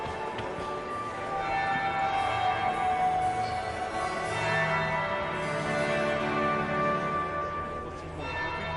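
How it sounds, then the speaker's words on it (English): A bell rings in the Dragon Age Inquisition video game, a sustained, resonant chime layered over a dense, steady backdrop of music and ambience. "That would be the second bell."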